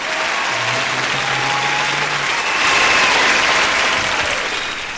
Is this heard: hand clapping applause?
yes